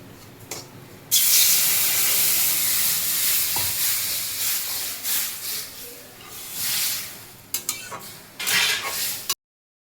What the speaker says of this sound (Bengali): এই যে সুজিটা ভাজা হয়ে গেছে, এর জন্য এখন জল দিয়ে দেবো।